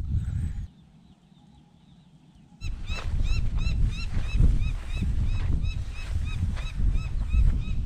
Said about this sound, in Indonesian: itu ada burung tuh yang dari tadi terbang mengitari saya